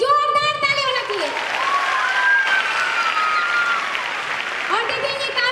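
A large stadium crowd claps loudly and steadily for several seconds, a dense wash of applause with a voice speaking over it at the start and end.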